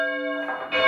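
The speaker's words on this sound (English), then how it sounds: "this is the first time that a bell is being rung off of the new floor" A single church bell rung at St. Giles, Chideock, on the first ring from the new floor. It gives one clear, loud strike with a sustained ringing tone, and a second strike sounds at the very end.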